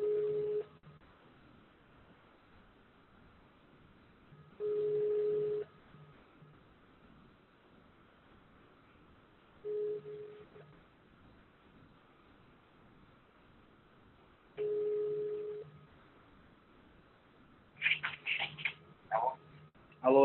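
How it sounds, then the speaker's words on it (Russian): A phone call rings through, with four evenly spaced steady ringback tones in a quiet line, followed by a short cluster of brief higher tones that sound like dialing. "Давайте еще раз это наберу."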